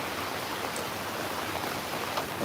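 Heavy rain pours steadily at Gabtoli cattle market, a dense even hiss of falling water close around with no voices.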